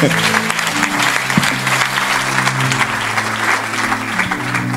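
A congregation applauding at a prophetic church service, a loud sustained wash of clapping with sung or hummed tones running underneath throughout.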